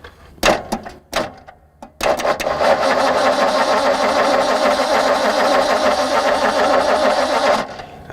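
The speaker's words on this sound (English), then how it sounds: "we're about to just crank this engine that's been sitting for who knows how long" An old big block engine in a 1964 Ford Galaxie that has sat unused for years cranks over after a few clicks and clunks, the starter then grinding steadily and loudly for several seconds before cutting off.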